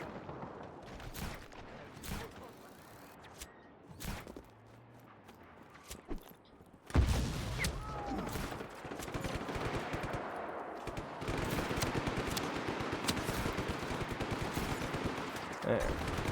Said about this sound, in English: Yeah, sniper rifle.